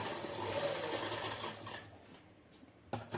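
A sewing machine stitches baby shorts in a steady, close whirring run that fades and stops partway through, followed by a few quieter handling clicks.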